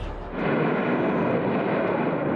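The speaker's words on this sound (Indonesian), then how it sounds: "Ledakan hebat berulang kali itu diikuti kobaran api." Repeated explosions and fire at a Pertamina gas well in Cidahu village: a sustained, heavy roar of broadband rumble fills the clip after a brief quieter start, like a distant blast thundering continuously, with no voices.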